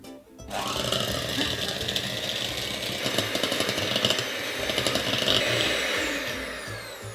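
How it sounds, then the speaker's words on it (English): Electric mixer creaming butter and sugar for a cookie dough, a steady loud motor whir with rattling beaters that starts abruptly and runs continuously, no talk over it. "Taking the electric mixer, you wanna just cream that butter and sugar until they're really nice and light and fluffy."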